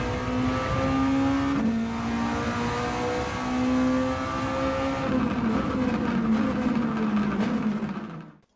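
An Alfa Romeo 4C 1.7-litre turbo engine in Gran Turismo 7 revs steadily and loudly, its droning pitch rising and falling over several seconds, then cuts off sharply at the very end.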